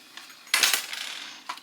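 Two four-sided dice rolled onto a hard surface, a sharp clatter followed by brief rattling and a small final tap, close and alone.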